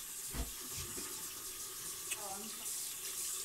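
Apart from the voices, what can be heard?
running tap water while washing face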